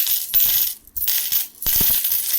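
Indian five paise coins from 1992 tumbling and clinking together in a loud, close cascade, with two brief pauses between bursts of metallic jingling and no voices.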